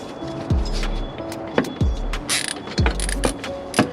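Ratchet clicking while the throttle body is taken off an LSA supercharged engine, several short bursts of close mechanical ratcheting with brief pauses between them.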